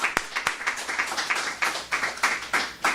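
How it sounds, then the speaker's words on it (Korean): Church congregation applauding during a Sunday worship service, a steady wash of many hands clapping with scattered sharper claps, moderately loud and continuous throughout. "서정희 할아버님한테 우리 박수 한번 쳐드립시다"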